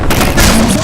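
Gunfire in Garry's Mod, Half-Life 2, aimed at a strider: a loud, dense burst of shots with a booming low end, packed tightly into under a second, with a voice mixed in.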